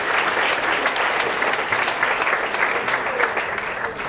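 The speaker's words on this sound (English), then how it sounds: "that deserves a round of applause" A large audience at a graduation ceremony breaks into sustained applause, dense even clapping at full strength throughout with a faint crowd murmur beneath.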